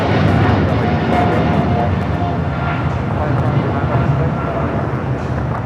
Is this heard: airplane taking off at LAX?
yes